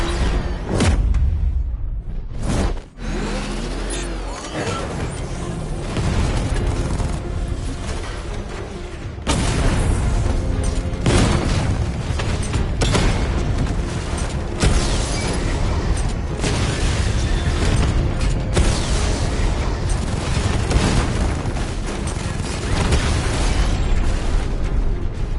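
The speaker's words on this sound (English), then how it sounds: "Your 60mm cannon will penetrate these heavily armored units," Batmobile tank's 60mm cannon firing in the video game Batman Arkham Knight, a dense, loud run of booming blasts and explosions that continues with little let-up.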